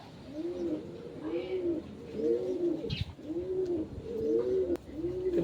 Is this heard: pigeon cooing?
yes